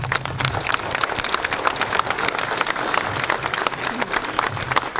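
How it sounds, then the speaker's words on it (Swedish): Applause for Erik Bergström at a Monitor open house in August 2019, a crowd clapping steadily and fairly close throughout, dense and unbroken, with a few voices murmuring underneath. "En applåd."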